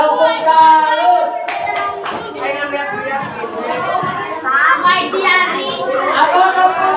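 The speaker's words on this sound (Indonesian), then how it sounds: "Tepuk salut." A group of children performs a rhythmic clapping routine, tepuk salut, in a classroom, bursts of hand claps mixed with lively chatter and kids' voices throughout.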